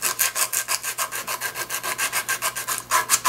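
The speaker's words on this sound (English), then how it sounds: "sanding away some of these high spots in the inner cavity" Steady back-and-forth sanding inside the body cavity of a 2015 Fender Standard Stratocaster, about seven strokes per second, a dry scratchy rasp close by that continues without pause.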